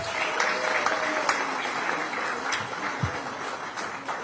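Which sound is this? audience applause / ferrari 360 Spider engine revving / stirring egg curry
audience applause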